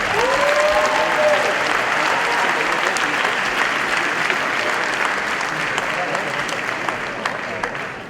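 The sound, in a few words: applause from the audience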